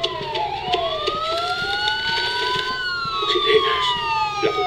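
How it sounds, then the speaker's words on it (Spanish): Police sirens from the video game Batman: Arkham Asylum, several wailing tones sweeping up and down and overlapping at once, fairly loud and continuous, with faint game sounds beneath. "Sirenas, la policía."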